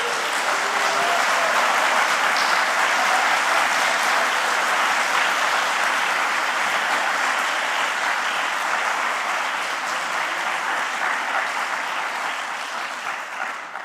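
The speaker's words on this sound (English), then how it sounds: "so an applause for them, please" A conference audience applauds steadily and loudly for about fourteen seconds, a dense wash of many clapping hands that holds even and tapers slightly at the end, with no talking over it.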